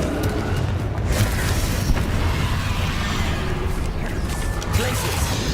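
A Confringo spell explosion in Hogwarts Legacy gives a dense rumbling boom with mechanical clatter and short pops, sitting in a loud, continuous game mix.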